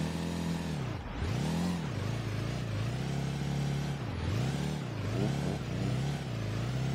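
A car engine in the racing game SLRR revs up and down repeatedly while drifting a Nissan S15, rising and falling in pitch as it shifts, loud and steady throughout.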